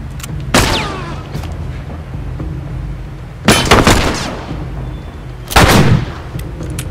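Three loud, booming gunshots ring out in The Last of Us Part II, spaced a few seconds apart, each with a sharp crack and a long echoing tail over a quiet game ambience.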